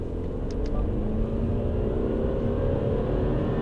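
Subaru Forester e-Boxer hybrid with CVT gearbox pulling away uphill from a standstill, a steady low engine and road rumble inside the cabin with a faint higher whine, continuous and even.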